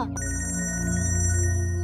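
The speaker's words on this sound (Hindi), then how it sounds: "हेलो भाई साहब, आपका फोन बज रहा है।" A mobile phone ringtone rings steadily and alone at close range, a repeating electronic tone pattern sounding throughout in a tense scene beside a dangerous bridge.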